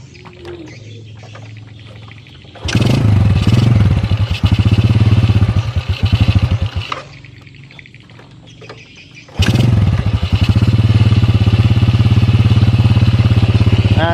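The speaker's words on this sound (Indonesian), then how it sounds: "Dan sekarang saya coba tahan gasnya." Motorcycle engine with an idle fault, loud and near, revving up as the throttle is held at about 1500 RPM, dropping back to a rough idle, then held steady again; no talk during the clip.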